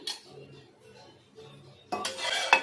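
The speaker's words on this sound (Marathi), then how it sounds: "इथे ना नॉनस्टिक पॅन घ्यायचं आहे थोडं तेल टाकून घेऊया आपण" A non-stick pan is handled on the stove and greased with oil, with soft metallic clinks and scrapes followed by a louder burst of sizzling near the end. No one speaks.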